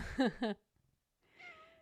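A pet cat gives a single short, soft meow after a brief human voice and a moment of silence.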